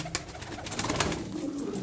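Pigeons coo close by, a soft, continuous throaty murmur of several birds overlapping.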